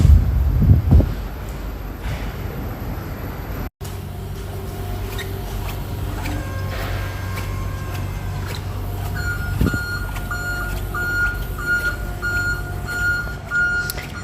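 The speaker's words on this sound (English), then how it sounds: "We just love that beeping of the forklifts." Warehouse forklifts beep in steady, repeating reverse-warning tones over a constant low mechanical rumble, with a brief dropout partway through and busy industrial background noise throughout.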